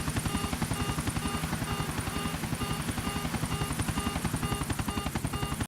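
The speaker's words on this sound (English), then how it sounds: "You've all seen the helicopter GTA 4 clip" A helicopter from the video game GTA 4 thrums loud and steady, its rapid rotor chop pulsing evenly throughout with a dense whine over it and no voices.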